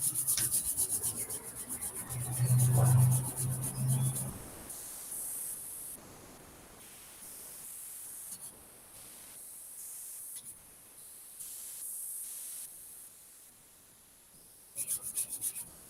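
Hands rub together vigorously as a tai chi and qi gong warm-up, making a close, rasping, sandpaper-like friction that is loudest early on and then continues in softer bursts with pauses.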